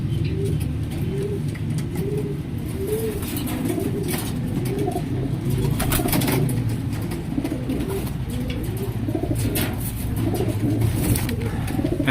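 A pigeon hen cooing in repeated soft, throaty rolls close by, over a steady hum of background noise with faint chirps from other birds.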